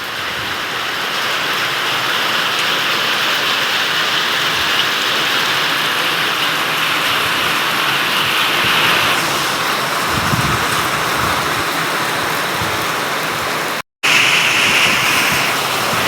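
Heavy rain with big drops hammers a tin sheet roof, a dense, steady roar that stays loud and close throughout, broken only by a split-second gap near the end.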